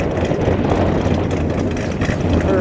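A 1967 Plymouth Belvedere GTX with its 440 V8 idling, a loud, close, steady rumble with dense low-end throb that holds evenly throughout.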